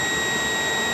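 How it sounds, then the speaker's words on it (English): Car radiator fan motor powered directly from 12 volts runs with a steady, loud whirring hum and a constant high whine, close and unbroken. "You can hear the fan."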